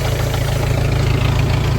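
A tractor engine idles continuously in a rice field during spraying, with a steady, low, even, throbbing rumble and no voices.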